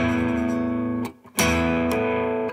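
A distorted Gibson Les Paul electric guitar chord rings out, briefly cut, then strummed again with an unwanted open string adding a harsh, clashing note buzzing in the mix.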